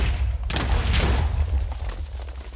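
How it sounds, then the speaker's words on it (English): A TNT blast in a Minecraft survival games match bursts out as a loud, broad boom around half a second in, followed by a rumbling, crackling tail that fades slowly over the next two seconds. "This TNT is like... Oh man, explosion."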